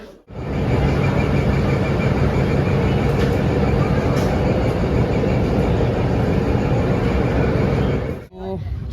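A passenger train from Alipurduar pulls into the station, a loud, steady rumble with a faint mix of voices that fills almost the whole stretch before cutting off abruptly near the end.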